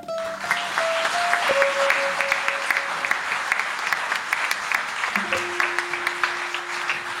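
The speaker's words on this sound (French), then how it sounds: "ajouter un petit applaudissement à la jeunesse de Jolan" Audience applause for a young poet at a spring Arab poetry evening, steady, dense clapping from a crowd lasting several seconds, with faint tones ringing underneath.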